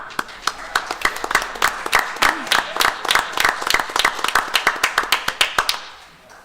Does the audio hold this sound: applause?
yes